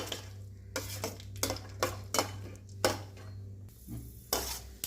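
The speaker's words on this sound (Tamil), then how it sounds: "வேர்க்கடலை இப்போ சேர்த்துட்டு நம்ம இப்படி 1 நிமிஷத்துக்கு கிண்டி விட்டுக்கலாம்" Peanuts stirred in a pan with a spatula for mint coriander rice: a run of distinct scraping, clattering strokes roughly every half second, close by and moderately loud, with no talking.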